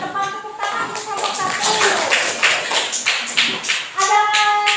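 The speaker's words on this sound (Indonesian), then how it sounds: "Tepuk tangan untuk kelompok" A short burst of clapping from a small group of students in a classroom, brisk and fairly close, with faint voices underneath.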